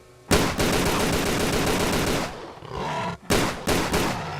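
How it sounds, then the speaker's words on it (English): Gunfire in the video game Tomb Raider: The Angel of Darkness, with a long loud burst of rapid shots followed by a pause and a few shorter bursts, no talking over it. "Point your gun and shoot."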